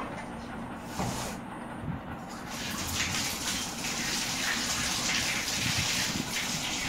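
Hot water gushes steadily into a basin to soak items, a continuous broad rushing pour that runs close and loud for the whole stretch without talk.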